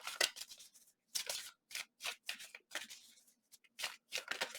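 Tarot cards shuffled up close in repeated brisk bursts with short pauses between them, each flurry crisp and papery, no talking over them.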